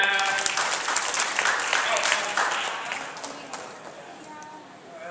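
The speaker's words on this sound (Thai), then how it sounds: "ขอเสียงปรบมือหน่อยครับ" Applause from a seminar audience on leadership, a burst of many hands clapping in a room, strongest at first and then thinning and fading toward the end, with voices faintly underneath.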